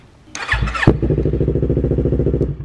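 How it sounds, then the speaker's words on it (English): Motorcycle engine starting up close by: a short starter whine and crank, then the engine catches and settles into a loud, even, rhythmic idle. "I'm going to go ahead and start up the bike"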